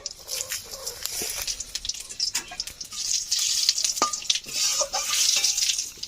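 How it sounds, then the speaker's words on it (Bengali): Whole cumin, two dried red chillies and three bay leaves sizzling in oil in a kadai for a village-style Kadaknath chicken curry, bursts of crackling and spitting with stirring clatter, growing louder toward the end. "কড়াইতে দিয়ে দিয়েছি আবার তেল, 2টো শুকনো লঙ্কা, 3টে তেজপাতা"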